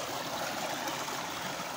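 Water gushing at full pressure from a solar-powered tube well in a village, a steady loud rush that holds without break.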